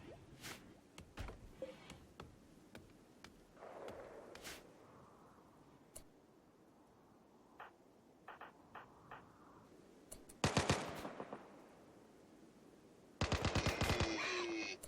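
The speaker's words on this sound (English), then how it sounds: "Hunting with an assault rifle, with an M249 light machine gun" Simulated M249 light machine gun fire while hunting in Rimworld: scattered faint single cracks, then two loud, dense automatic bursts near the end.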